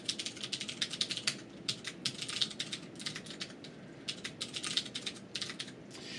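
Fingers typing on a computer keyboard, quick bursts of clicky keystrokes separated by short pauses, close and fairly quiet with no talking.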